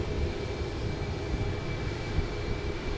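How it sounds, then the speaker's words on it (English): An F-15 fighter jet at Portland International Airport makes a steady, moderately distant engine roar, even and unbroken, with no voices. "It's the fighter jets. Yeah, that's an F-15."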